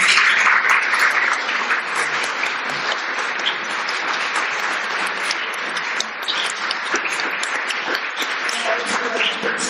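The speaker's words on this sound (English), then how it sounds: "give you all a big round of applause" An event audience at a journalism panel gives dense, continuous applause, loud and even throughout, with scattered individual claps standing out from the crowd.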